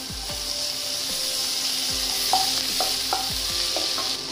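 Onions frying in a pan for street-style masala Maggi give a steady loud sizzle, while a spoon scrapes and taps the pan in a regular stirring rhythm, close by.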